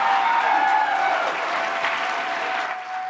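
Crowd of Libertarians at a debate applauding, dense continuous clapping that stays loud throughout and tapers slightly at the end.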